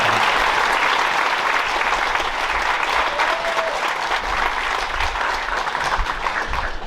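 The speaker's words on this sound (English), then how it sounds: "Let's go ahead and give our scholarship recipients one more round of applause." A crowd at a high school honor graduate ceremony claps for scholarship recipients in a full, sustained burst of loud applause that stays even from start to finish, with no speech over it.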